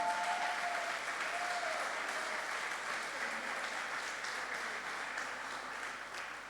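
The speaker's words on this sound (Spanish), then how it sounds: "Dale un aplauso al Señor" A church congregation claps together in a dense, sustained burst of applause that fills the space and fades a little toward the end. No one speaks over it.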